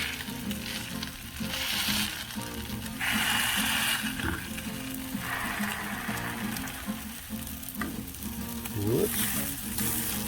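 Hash brown patties fry on a Blackstone griddle with a steady, loud sizzle throughout, broken by occasional metallic scrapes and taps of a spatula.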